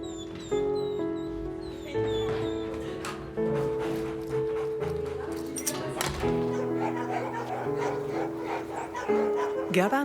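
Dogs bark, yip and whimper in an animal shelter, overlapping calls rising and falling close by and echoing in the pens.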